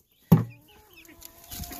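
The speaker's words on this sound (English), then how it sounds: "Chickens." A chicken gives a sharp cluck up close, followed by softer clucks and rustling from nearby fowl.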